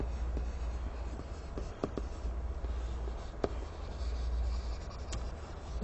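Pen or marker writing on a board or paper, scratchy strokes with a few sharper taps, steady and fairly close over a low hum, no talking.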